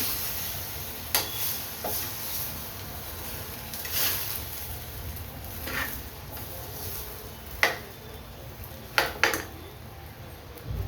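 A spoon stirs vegetable pulao in a cooker, soft scraping against the metal under a low background hum, with a few sharp clinks near the end.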